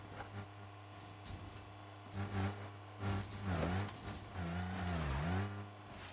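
A smashed, smoking car keeps driving, its strained engine humming low and steady, with several rising and falling revs that swell louder toward the end.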